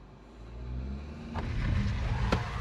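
A Tata Sierra diesel automatic pulls away from rest, its low engine rumble building steadily as it starts to move, with a couple of sharp knocks near the end, close and fairly loud.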